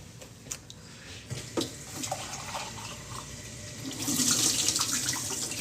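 Running tap water splashes into a sink at low volume, with scattered clinks and drips before a steadier, louder flow near the end.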